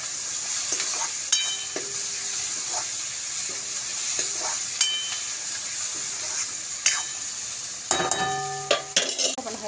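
A spoon stirs onion, tomato, turmeric and spice masala in a frying pan, with soft continuous sizzling, scattered scraping and clinks of metal against the pan, and a louder clatter near the end.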